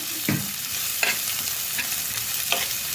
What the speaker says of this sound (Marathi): एक मोठा कांदा घेतला आहे मी तो परतून घेऊया मऊ होईपर्यंत